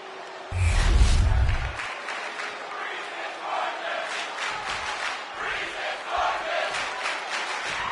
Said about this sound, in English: This crowd is excited for this one as it's go time for Kofi Kingston.